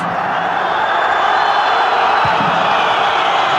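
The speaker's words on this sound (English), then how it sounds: "The crowd not quite happy that that ball" A football stadium crowd at a World Cup qualifier between Armenia and Spain gives a loud, sustained murmur of displeasure with scattered whistles. The roar stays dense and distant throughout.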